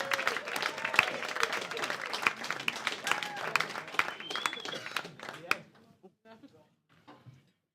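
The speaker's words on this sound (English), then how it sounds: "Give him a round of applause" A comedy club audience in Liverpool gives a comedian a round of applause, crowd clapping with some cheers that holds steady for about five seconds, then thins out to scattered claps and quiet.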